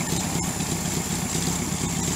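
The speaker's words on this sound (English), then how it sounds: "And it's idling right now." A rebuilt VW bus engine idling steadily with a low, even rumble and a faint rhythmic chug, close by and continuous.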